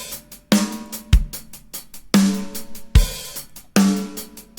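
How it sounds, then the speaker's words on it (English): Drum groove from the ML Drums plugin with the snare tuned lower, deep punchy snare hits alternating with kick drums and quick hi-hat ticks in a steady pattern. "So for example, if you felt like you wanted to have a lower snare,"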